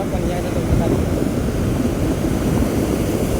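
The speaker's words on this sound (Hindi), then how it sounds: "देखिए बहुत तगड़ा लहर मार रहा है" Strong sea waves at Udupi beach make a steady, loud, close roar of surf mixed with wind buffeting the microphone.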